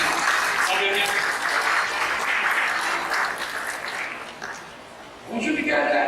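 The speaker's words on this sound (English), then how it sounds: "Clap your hands and clap your hands." A church congregation claps hands in a sustained, dense round of applause that dips briefly near the end before swelling again, with voices mixed in.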